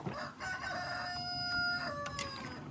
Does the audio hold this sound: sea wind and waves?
no